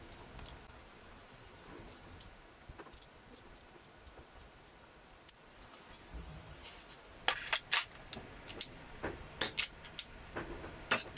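Airsoft pistol shots from a Tokyo Marui Bodyguard 380 with an extended magazine: sparse, sharp clicking pops at first, then a faster run of louder, closely spaced snaps near the end, with no talking.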